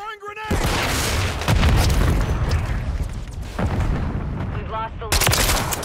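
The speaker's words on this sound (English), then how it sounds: "Throwing grenade." A grenade explodes in a multiplayer shooter match, a loud deep boom followed by rumbling blasts and scattered gunfire, with a short voice before it and another sharp crack near the end.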